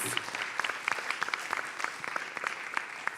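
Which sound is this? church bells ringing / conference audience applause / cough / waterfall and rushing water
conference audience applause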